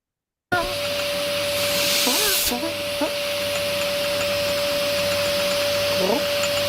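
A vacuum cleaner runs steadily throughout with a loud, constant whine and broadband hiss, while people talk intermittently over it in a classroom.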